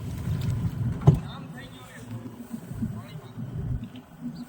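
A rescue boat pushes through floodwater in a flooded residential area of Dwarka, with low rumbling and water sloshing close by, under urgent talk from people aboard.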